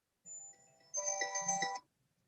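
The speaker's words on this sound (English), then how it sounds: "my phone's been going steady through this conversation" A mobile phone rings faintly in a council meeting room, a short electronic melody in two bursts, the second fuller and brighter, then silence.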